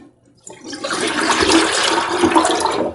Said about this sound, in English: I'm going to wring this out and rinse it in some fresh water